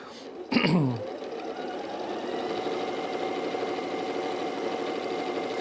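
A sewing machine runs steadily, stitching a quarter-inch seam on a design roll race quilt, its close, even mechanical whir continuing without pause after a brief, sharper sound at the start.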